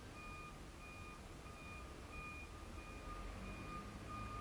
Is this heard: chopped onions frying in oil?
no